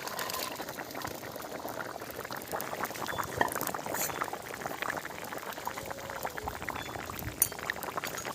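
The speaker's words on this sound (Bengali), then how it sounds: "এবারে আমি মাছগুলো ঢেলে দিচ্ছি" Deshi latha fish are tipped into a thin Bengali potato curry that is already boiling, giving a soft, continuous bubbling and simmering with faint splashes, heard close and quiet.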